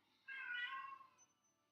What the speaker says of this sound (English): She sees a bird outside and she meows when she does that.